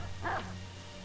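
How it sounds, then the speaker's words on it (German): A single short dog bark in the game Assassin's Creed 3, fairly close and clear over a steady low hum, with no talking. "Scheiß Hund!"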